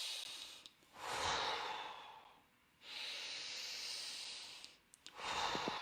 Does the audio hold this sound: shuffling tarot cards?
no